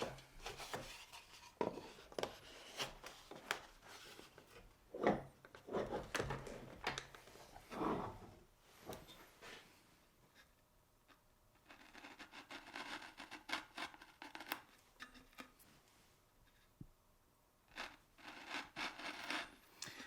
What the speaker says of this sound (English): this actually cut pretty nicely for a rip saw